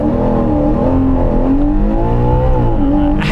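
A Ferrari Purosangue accelerates hard from a standing start, its engine note loud and continuous, rising and falling in pitch through gear changes, heard from close inside with no talking.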